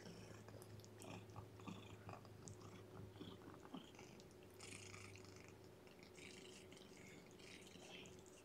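A kitten nursing and suckling at close range, with soft rhythmic chewing and wet sucking sounds over a low steady purr, continuous throughout.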